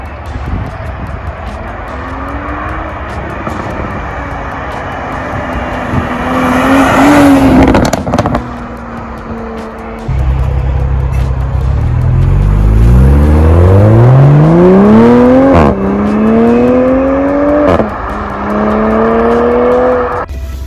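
A 2020 Toyota GR Supra drives around, its engine revving and accelerating through rising gear sweeps, with a surge near the middle and strong repeated pulls later, loud and close with no talk.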